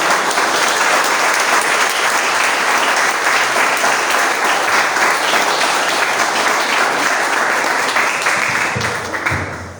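Sustained applause from a church congregation during a Portuguese-language evening service at a Brazilian evangelical church, dense and steady for nearly ten seconds before tapering off at the end.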